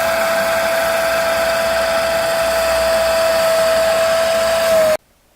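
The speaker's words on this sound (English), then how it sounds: "You can see how much dirty water is being extracted by the machine." A carpet extractor machine pulls dirty water out of a Nissan 350Z's seats with a loud, steady whining suction drone that holds constant, then cuts off abruptly near the end, leaving near silence.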